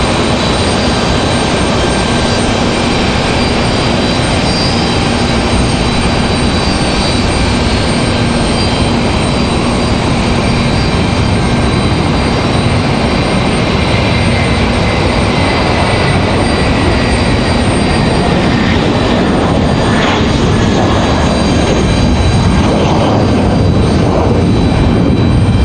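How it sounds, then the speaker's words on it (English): An American Airlines Airbus A319 moves off at Raleigh-Durham airport, its jet engines giving a loud, constant whine and rumble that stays close and unbroken throughout. "American Airlines looks like an A319 getting ready to move on out of here."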